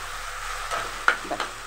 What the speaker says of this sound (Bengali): নাড়াচাড়া করে নামিয়ে নিলেই হয়ে যাবে রসুন দিয়ে পাট শাক ভাজা